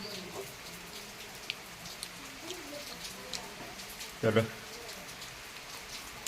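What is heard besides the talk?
rain falling outside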